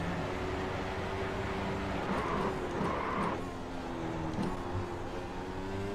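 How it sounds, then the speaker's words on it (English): A Formula 1 car in the iRacing sim racing game drones with a steady engine tone that dips and recovers around shifts, loud and continuous with no talking. "Engine sound leaves a little bit to be desired, I think."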